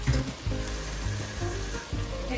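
Ginger paste hits hot oil in a frying pan, crackling and sizzling steadily up close, with soft stirring bumps and scrapes recurring through it.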